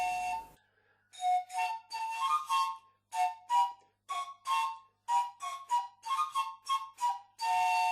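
Panpipes with 21 pipes play a quick melody of short, breathy whistled notes separated by brief gaps. The notes are clear and close, with no other sound behind them.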